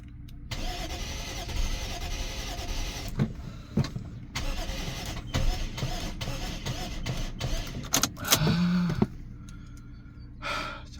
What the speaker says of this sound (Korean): 시동이 걸렸습니다